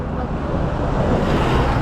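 Steady, loud wind beside a highway rushing and buffeting across the microphone, a continuous broadband roar with low rumble, no pauses throughout.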